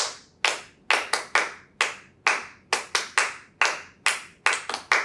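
Sharp, distinct hand claps land in a loose rhythm, roughly a dozen crisp strikes keeping time with a children's singalong of the Bingo song, close and clear with no voices over them.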